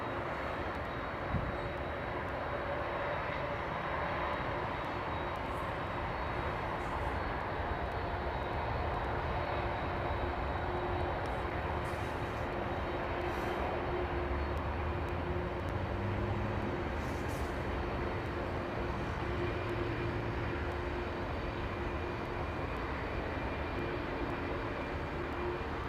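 A Boeing 777 airliner at London Heathrow gives off a steady, even jet roar that holds at a moderate distance for the whole stretch, with no voices over it.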